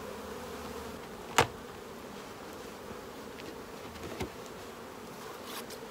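Saskatraz honey bees hum steadily around a hive whose top super is almost completely filled, a soft continuous drone with one sharp click and a fainter knock.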